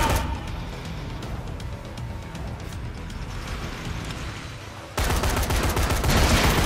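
Gunfire in Dead Rising 3, aimed at zombie weak spots: sustained rapid shooting with a steady crackling barrage that jumps sharply louder near the end, with no voices over it.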